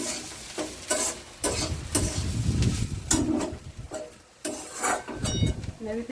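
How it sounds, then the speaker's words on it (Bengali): A papaya dish being stirred with ghee in a pan, with repeated bursts of scraping and sizzling separated by short pauses, fairly close and moderately loud. "ঘি দিয়ে নাড়াচাড়া করে হয়ে গেছে আমার নাড়িয়ে ফেলবো"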